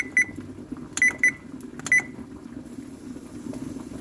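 A kitchen timer beeps sharply while egg-white breakfast pasta cooks, giving a single beep, then a quick pair, then one more, each short, bright and close, over faint kitchen background noise.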